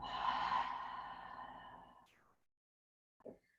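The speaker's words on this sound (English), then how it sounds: "Take a full breath in. Exhale through the mouth." A long, slow exhale through the mouth during a gentle relaxation practice, soft and breathy, fading out over about two seconds, followed after a pause by a brief faint breath sound.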